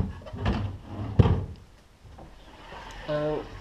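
Wooden wardrobe drawers in an apartment bedroom slide and knock shut, several close thumps and scrapes with a brief sharp bang near the middle, under a faint background hum.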